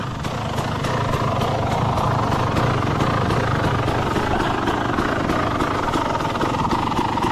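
A motorcycle engine drones nearby with a rapid, even pulsing beat, held at a constant level throughout with no voices.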